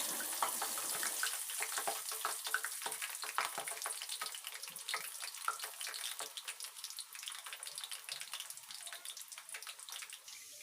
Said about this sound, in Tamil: இதே மாதிரி மீதி இருக்கிற எல்லா மாவையும் பொரிச்சு எடுத்துடலாம்.